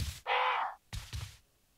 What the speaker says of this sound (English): And why are there crows here?